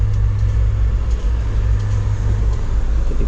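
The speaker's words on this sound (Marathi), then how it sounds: "रात्रीचा 1 वाजला आहे आणि गाडी आता निघाले" The Tutari Express on the Konkan Railway to Mumbai moves off at night, heard from inside a coach as a steady, heavy low rumble with no clear rhythm, close and continuous throughout.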